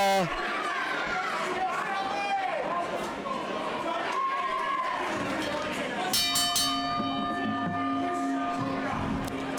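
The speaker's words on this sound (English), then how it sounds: "the bell is rung" A bell rings out partway through, starting a match at a Rage in the Cage event, with sustained ringing tones over crowd noise and a commentator talking throughout.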